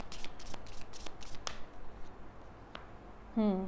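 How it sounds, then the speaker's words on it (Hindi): Tarot cards are shuffled and drawn from the deck, a quick run of crisp flicking riffles up close, then a brief quiet with a single tap before a voice starts to speak. "एक कार्ड मुझे और निकाल लेने दें।"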